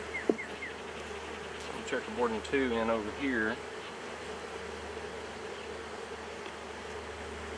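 Honeybees drone steadily around an open hive box while a beekeeper checkerboards foundation frames, a continuous close buzz that runs the whole time, with someone speaking briefly over it near the start.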